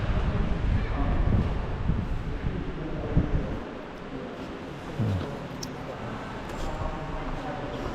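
Cool wind blowing outdoors beside a large canal, heavy gusty rumble buffeting the microphone, strongest early and easing later, with someone talking over it.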